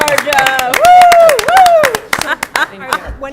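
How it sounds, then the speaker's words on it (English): A small group at a town conservation commission meeting gives a short round of applause, with sharp, close hand claps in quick, uneven succession mixed with cheering voices and a drawn-out whoop. "Just a round of applause for John."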